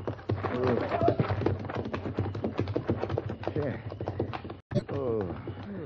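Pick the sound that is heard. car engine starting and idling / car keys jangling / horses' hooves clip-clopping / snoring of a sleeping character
horses' hooves clip-clopping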